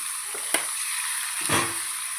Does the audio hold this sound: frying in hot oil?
yes